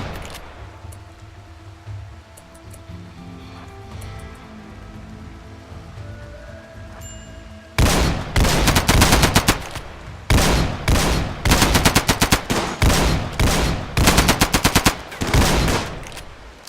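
Rapid, loud bursts of automatic gunfire in RimWorld, aimed at an emu, break in about halfway through after a quiet ambient stretch, then keep going in dense volleys with short gaps.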